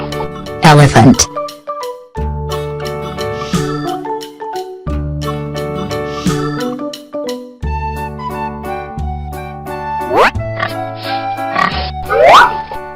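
A toy pig from a children's wooden truck and animal block set gives short oinking grunts amid bright musical tones, with a voice speaking over parts of it.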